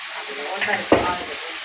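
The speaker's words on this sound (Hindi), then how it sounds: "अब इसे अच्छी तरह भूनने के बाद फिर इसमें हम कपिल डालेंगे" Spices frying in a pan for pahadi saag hiss with a constant loud sizzle, and a brief scrape of stirring comes just before the midpoint.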